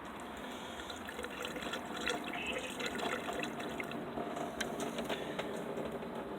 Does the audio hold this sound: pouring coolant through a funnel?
yes